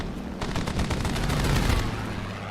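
Aircraft cannons in the War Thunder flight game hammer out a rapid, continuous stream of heavy shots, loud and close, rising to a dense burst before tapering off.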